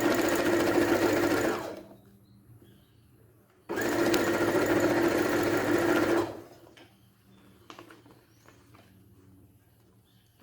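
Sewing machine stitching yarn hair onto a handmade cloth doll, running in two loud, steady bursts of several seconds each, separated by quiet pauses with faint handling noises.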